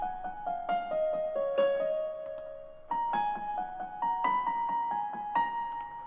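A piano plays the lead of a dark trap beat, a melodic line first written for violin, with notes struck in a steady rhythm over clicking percussion, clear and upfront.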